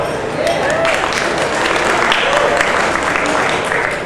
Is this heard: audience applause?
yes